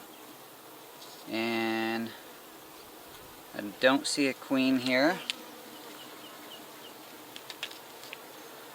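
Honey bees buzz on a brood frame pulled from a hive: a faint, steady insect hum with one louder close buzz, while a person talks nearby.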